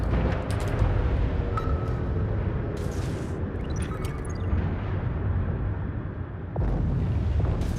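Torpedo hits on a warship in World of Warships, deep booming explosions over a constant rumble of engine and sea, loud and close with several bursts.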